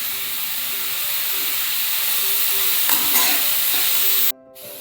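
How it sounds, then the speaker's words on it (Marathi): Chopped onion and peanuts frying in oil in a pan for kande poha, a steady close sizzle and hiss with a brief stir near the middle, cutting out abruptly at the end. "शेंगदाणे भाजू द्यायचे."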